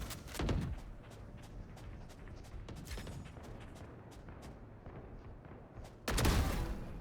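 Gunfire in a shooter video game: a burst of loud close shots at the start, scattered lighter clicks and pops, then another heavy volley near the end, no talk.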